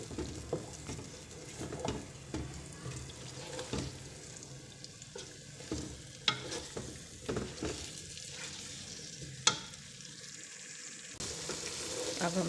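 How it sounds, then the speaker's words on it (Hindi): Onion and yogurt paste frying in a pan for a nehari-style broth gives off a faint, steady sizzle, broken now and then by soft stirring clicks and a few sharper knocks. "अब हम इसको इसके साथ भून लेंगे"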